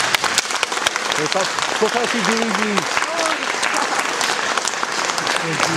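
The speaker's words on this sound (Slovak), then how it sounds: "všetky si zaslúžia obrovský potlesk" Audience applause at a Miss beauty pageant fills the hall, steady dense clapping throughout with a voice briefly heard over it.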